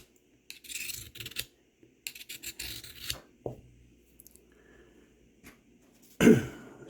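An Old Hickory knife being sharpened, heard as a few separate rasping strokes in short bursts with quiet gaps, followed by a clearer scrape near the end.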